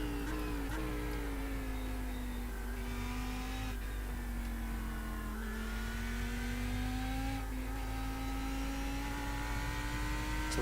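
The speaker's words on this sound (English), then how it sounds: "Do love a good V10 sound" Lamborghini Huracan GT3 EVO V10 engine in the iRacing sim at Spa, a steady high-pitched racing drone that rises and falls with throttle and gear changes, loud and continuous with no talking.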